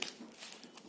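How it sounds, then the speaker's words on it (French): Scissors snipping through a folded sheet of paper, a few quiet crisp cuts and paper rustles within a second, close up and faint. "vous prenez vos ciseaux, vous coupez à peu près vers le milieu"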